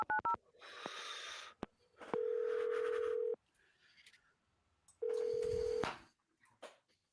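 Phone dialing: a few quick key tones, then steady tonal beeps with breathy noise, the tones repeating after a pause, close and clear.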